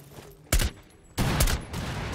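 Gunfire in Rainbow Six Siege comes in fairly faint bursts, a short rattle followed by a longer sustained volley of rapid shots with a trailing continuous barrage.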